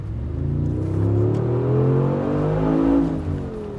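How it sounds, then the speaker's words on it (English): A powerful hand-built 4-liter twin-turbo V8 in a Mercedes G63 revs up and down with rising and falling harmonic tones, close and loud, a deep throaty rumble with no talking. "The G63 also features a 4-liter bi-turbo V8"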